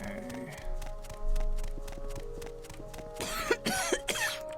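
A character's coughs and throat clearing near the end, set against quiet background music and ambient tones in the game Morrowind.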